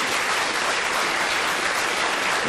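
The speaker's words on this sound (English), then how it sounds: "I'm sure you'd want to clap hands for both Frank and Patrick" Dense, loud applause from a television panel game studio audience, a continuous roar of clapping hands at full strength throughout.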